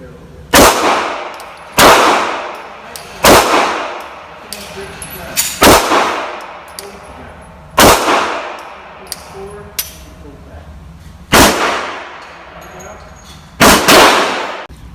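A Glock pistol is fired at a shooting range: about eight loud, close, sharp cracks at irregular intervals, each with a booming decay.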